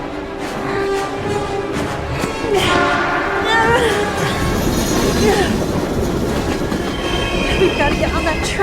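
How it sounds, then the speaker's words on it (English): A train in the video game Heavy Rain rumbles loudly and steadily with wheel squeals and rail clatter, a continuous close roar throughout. "We've got to get on that train, Ethan."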